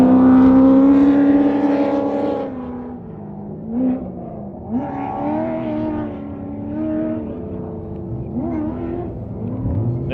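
Razorback Jag 007 with a 6-litre Chevy engine on a race track, a loud, close engine note that drops and rises through several gear changes and revs.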